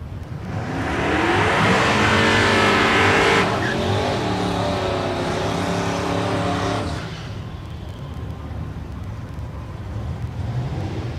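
A limited street Mustang and another drag racing car launch side by side at Texas Motorplex in Ennis, Texas, engines roaring up through the gears in a loud rising surge before cutting off abruptly and fading to crowd ambience.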